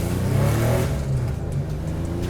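A Porsche 953 Paris-Dakar rally car pulls away in first gear on a wet hillclimb, its engine note rising in a steady, loud, close growl with no talk over it.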